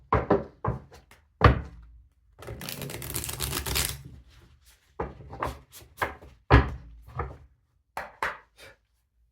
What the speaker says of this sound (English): Feel free to fast forward through the shuffling if you want.